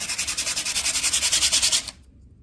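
Sandpaper is rubbed over bicycle disc brake pads in about twenty quick, rhythmic scraping strokes, close and distinct, before the sound stops abruptly.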